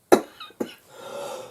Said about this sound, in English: excuse me, I'm still coughing.